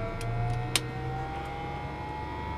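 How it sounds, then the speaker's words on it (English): A TBM850 turboprop engine spooling up during start at night: a thin turbine whine climbs slowly over a low, steady hum, with a couple of sharp clicks early on. "We'll start up the engine here."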